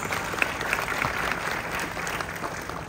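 An audience applauds a chairman at a MICE destination event in Clark, a dense, steady round of clapping that holds at an even level throughout.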